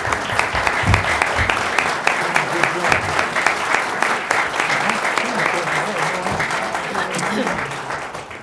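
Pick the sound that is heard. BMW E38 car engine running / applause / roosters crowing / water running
applause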